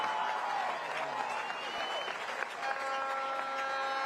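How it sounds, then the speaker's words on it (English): Crowd at a Friday night high school football game between Maroa-Forsyth and Williamsville cheering and applauding in a steady, dense wash of clapping and voices, heard from a distance in an open stadium. "I hear a lot of cheering. That's a lot of cheering."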